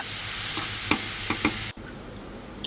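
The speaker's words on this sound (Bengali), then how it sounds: "এখন ডিমের মধ্যে ভাজিটাও দিয়ে দিলাম এরপর হচ্ছে ভাজিটা একদম ভাজা ভাজা করে ভেজে নেব" Vegetables and egg are stir-fried in a pan, with a loud continuous sizzle and a few scraping stirs, after which the sound suddenly drops to a much quieter low hiss.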